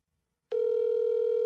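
A telephone line begins a steady electronic tone partway through a call to Mike, loud and unbroken after a short silence, with no talk over it.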